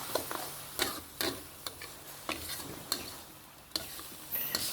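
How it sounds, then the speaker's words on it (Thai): Pork and lemongrass being stir-fried in a pan, with scattered scraping and stirring clacks from the utensil over a soft, steady sizzle, fairly close and without speech. "ผัดต่อ"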